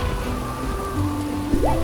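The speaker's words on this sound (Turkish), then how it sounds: "Ama yağmur gerçek." Steady rain hisses softly in the background, an even wash of falling water with a faint tonal sound rising briefly near the end.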